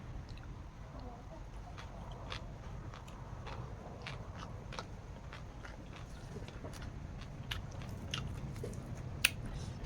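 Someone eating Lao-style green papaya salad, close wet chewing and crunchy bites with scattered sharp clicks over a soft steady background.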